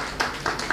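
A workshop audience in a hall claps briefly, a short burst of applause with a few louder claps standing out over a steady room background.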